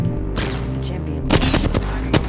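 Rapid gunfire crackles through a firefight in the Apex Legends battle royale, a steady stream of close, loud shots that swell into heavier bursts toward the end.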